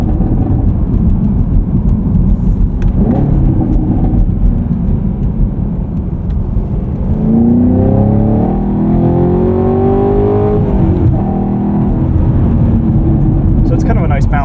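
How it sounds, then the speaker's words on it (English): A Chevrolet Camaro SS 1LE V8 rumbles loudly with its exhaust valves closed, the engine rising and falling in a revving sweep midway. A voice talks steadily over the engine throughout. "Burbles do sound a little bit strange with the valves closed"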